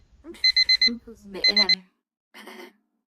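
A timer goes off during a casual chat stream with a rapid beeping alarm in two bursts of four beeps each, followed by a shorter third burst. Talk is faintly present under the first bursts.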